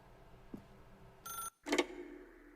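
A telephone rings in the video game The Stanley Parable, a short tonal ring cut off by a brief silence and followed by a second, louder ring burst, fairly close and alone with no talk.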